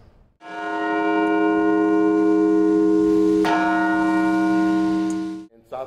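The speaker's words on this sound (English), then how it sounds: "The bell was rung in celebrations." A church bell rung in celebration sounds one long, loud, ringing tone that hums and sustains for several seconds, with a second strike partway through before it fades out.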